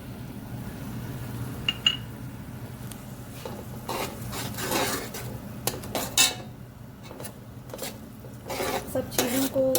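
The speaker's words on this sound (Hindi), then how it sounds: "सब चीज़ों को अच्छी तरह मिक्स करना है।" A spoon scrapes and clinks against a cooking pot while spices are stirred into pulao, giving a series of irregular scraping and knocking sounds close up.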